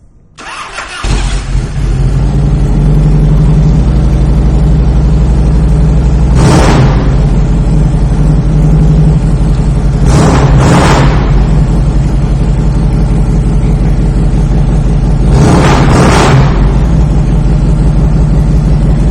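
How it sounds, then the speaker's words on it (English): A 1997 carbureted Harley-Davidson Softail Heritage with fishtail exhausts cranks, catches and settles into a loud, close, lumpy idle, broken by three or four sharp throttle blips, with no talking over it. "let's fire this bike up"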